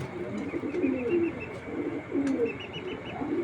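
Foreign racing pigeons coo in low, repeated rolling calls nearby, with a few chirps and faint wing flaps in the background.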